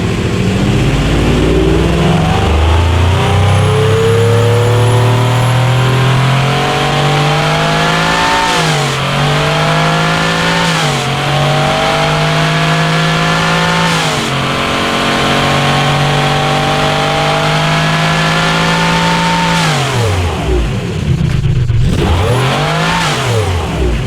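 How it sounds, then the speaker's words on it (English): A 4000 HP turbocharged V16 engine in the Automation game revs hard and loud, climbing and dropping in pitch repeatedly with rising whine, then falling off sharply near the end with rapid rev dips, no voices heard. "Listen to the blow-off valve of the turbos."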